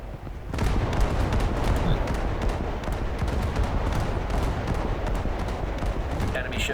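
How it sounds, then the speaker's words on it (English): Rapid, sustained bursts of Bofors anti-aircraft guns firing in the War Thunder naval game, dense overlapping booms and cracks running loud and near throughout. "so Bofors guns sound better now"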